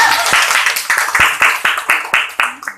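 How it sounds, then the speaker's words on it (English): Audience applause at an online debate class session, rhythmic clapping in a steady beat of roughly a dozen loud, close claps that slow and fade near the end. "So round of applause."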